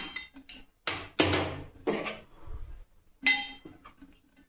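Metal pot of tea lifted off a gas stove, with several sharp clanks and scrapes of metal on the burner grate, close and fairly loud, separated by short quiet gaps.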